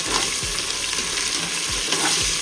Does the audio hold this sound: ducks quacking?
no